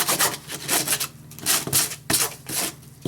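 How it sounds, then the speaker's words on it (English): A sanding block rubbed back and forth over a dry painted surface in quick, rhythmic scratchy strokes, close and fairly loud, with no talking. "I'm going to take my sand block"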